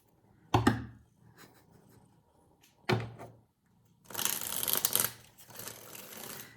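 Tarot cards handled and shuffled by hand: two soft thumps, then a dense riffling rush lasting about a second, close and fairly quiet, with no talk.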